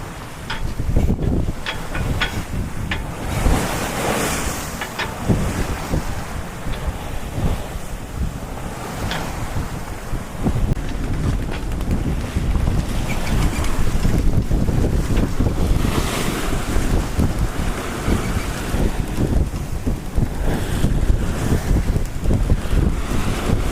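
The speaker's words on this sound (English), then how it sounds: "Sitting here dealing with the waves" Wind and ocean waves roar aboard the Oyster 485 sailboat crossing the Ionian Sea, a loud continuous rush with heavy wind buffeting on the microphone and repeated surges of water against the hull.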